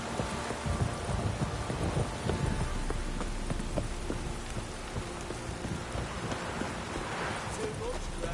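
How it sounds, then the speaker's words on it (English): Steady rain pattering down with low rumbles of thunder in The Witcher 3, a continuous stormy wash of sound under faint background activity. "It's blowing, pouring again. If it don't stop raining, my arse will rot off."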